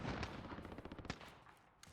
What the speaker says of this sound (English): That shooting is actually kind of close.